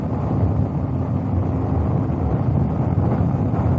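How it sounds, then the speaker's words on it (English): Constant heavy roar of wind rushing past a motorcycle on a highway, low and loud, with steady road rumble and no talking. "that wind is really pushing me around"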